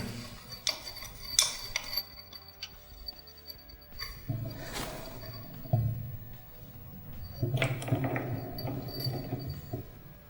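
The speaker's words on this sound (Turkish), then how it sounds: "Yağ tapasını açıyoruz." The oil drain plug on a four-stroke enduro motorcycle being opened brings scattered metallic clinks, taps and scrapes of tools on the engine, close and fairly quiet, with a few louder knocks partway through.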